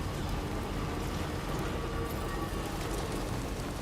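Steady rainfall in the video game Death Stranding 2, a dense, continuous hiss of drops that stays even and fairly close throughout, with no talk over it.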